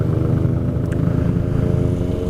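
Motorcycles on a group ride toward Manila, including a Kymco Xciting 400i, rumble with a steady low engine drone and road noise, loud and continuous with no distinct revs.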